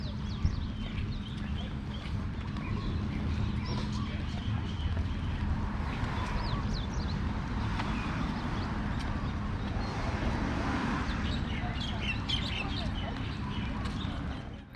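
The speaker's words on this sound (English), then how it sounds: "Those birds you just heard is the common myna bird that we have." Common mynas call among other birds in a park near Waikiki's Queens Beach on Oahu, their chattering, squeaky notes scattered over a steady outdoor wash of ambient noise, with a voice talking now and then.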